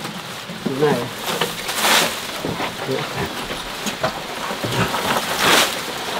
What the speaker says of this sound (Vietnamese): ra ngoài mưa rất to